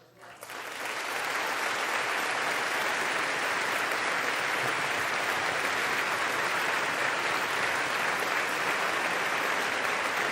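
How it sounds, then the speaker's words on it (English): Applause fills the chamber of the US Congress, rising sharply from near silence into a sustained, dense roar of clapping that holds loud and unbroken for about ten seconds. "Oh, there are applause"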